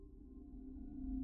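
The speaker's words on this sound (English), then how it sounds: "Oh, it's a sine wave." Unmodified synthesizer preset producing a steady sine-wave tone with a low hum beneath, held evenly for a moment and swelling slightly louder toward the end.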